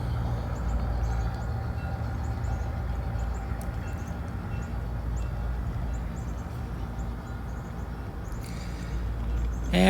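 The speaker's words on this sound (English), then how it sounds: "So the train's coming into the yard." A garden railroad model train rolling into an outdoor yard gives a steady low rumble and clatter for about ten seconds, with faint birdsong high above and no talk.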